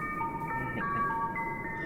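Ice cream truck jingle in a backrooms video game: a steady, thin electronic melody of sustained bright tones, moderately faint and continuous, with no talk over it.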